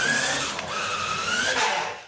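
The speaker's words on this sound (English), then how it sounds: "it's the bumper rubbing the wheel" A Tyco Bandit RC truck's tire rubs against its bumper, giving a close, continuous whirring grind with a rising and falling whine.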